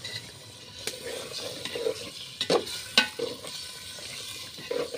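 Duck meat stirred and braised in a pan, a steady close sizzle under scraping stir strokes, with a few sharper clinks of a spatula against the pan.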